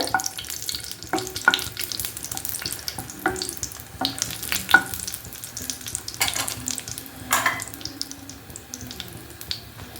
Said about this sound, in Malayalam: ആദ്യം ഈ മുളക് ഒന്ന് നന്നായിട്ട് ഒരു കറുത്ത കളറായിക്കോട്ടെ, ഒരു കുഴപ്പമില്ല കേട്ടോ, വറുത്തെടുക്കേണ്ടതുണ്ട്